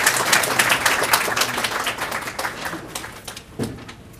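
An audience at a talks event bursts into loud applause after a speaker finishes, dense clapping that starts strong, thins out gradually over several seconds and ends in a few scattered claps.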